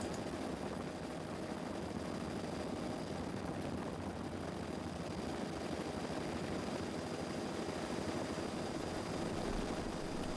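A helicopter flies on a Kimberley tour, heard from inside the cabin with no rear doors as a steady, dense roar of engine and rotor wash, broadband and unbroken, with no talking.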